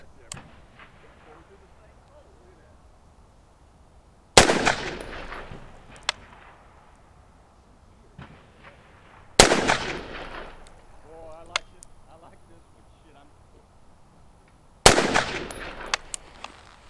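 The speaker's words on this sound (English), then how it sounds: "We're gonna go ahead and take a knee and break 3 more rounds, aiming center mass of that target." Three loud rifle shots fired from a kneeling position at a target 15 yards away, each a sharp crack with a decaying tail, spaced about five seconds apart with quiet handling noise between.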